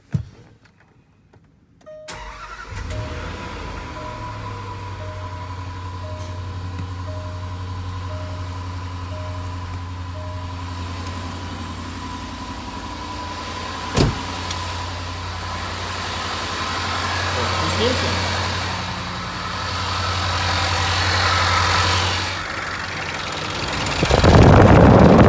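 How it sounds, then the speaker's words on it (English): A 2012 Range Rover Sport engine idling after a radiator fan replacement, a steady low hum with a faint whine from start-up onward, the fan's airy whoosh gradually swelling louder toward the end. "Okay, now the car idling and fan is moving."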